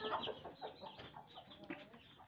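A hen and her ten-day-old chicks cluck and peep softly nearby in a sunny yard, a scattered run of quiet overlapping calls with no talk.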